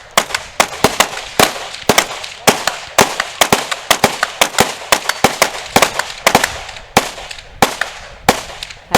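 Rapid gunfire from a 3 gun shootoff race, a dense string of sharp, loud reports fired in quick uneven bursts as competitors race through shotgun, rifle and pistol stages, with no voices over the shots.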